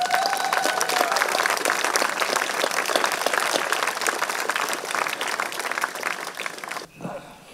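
Sustained applause from an open-air audience at a garden pool anniversary celebration in Aesch, a dense steady wash of clapping that holds for several seconds before cutting off abruptly near the end.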